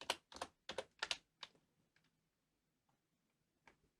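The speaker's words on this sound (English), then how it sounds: "just hitting Tab on the keyboard and typing a time offset to bring this up" Typing on a computer keyboard while working in Nuke: a quick run of close, crisp key clicks, then sparse single taps with pauses, ending with a couple more keystrokes.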